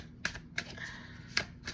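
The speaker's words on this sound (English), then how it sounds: "I'm gonna shuffle again and see what pops out" Tarot cards being shuffled, giving three or four sharp, crisp riffling bursts of card stock with short quiet gaps between them, close and alone with no voices.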